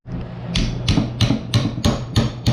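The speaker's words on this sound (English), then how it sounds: "Few whacks with a hammer got it." Hammer striking the metal retaining clips on a Miata steering rack: six loud, sharp, evenly spaced metallic whacks close up, each ringing briefly, with no talking.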